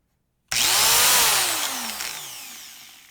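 A new Warrior angle grinder starts abruptly and runs free with no disc load, a loud high whine that peaks, then slowly falls in pitch as it spins down, with no speech.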